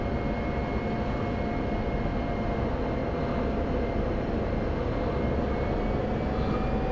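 An F-16 Viper jet engine in the DCS flight simulator gives a steady, dense roar with a faint high whine, holding level as power is eased back.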